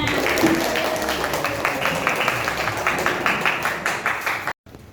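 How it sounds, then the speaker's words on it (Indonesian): A classroom group claps together in a steady burst of applause that builds slightly and then cuts off abruptly near the end. "tepuk tangan semuanya"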